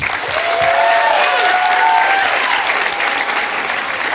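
A comedy special crowd claps loudly and steadily for about four seconds, with a few cheers and whoops rising over the applause.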